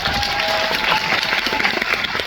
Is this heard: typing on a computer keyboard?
no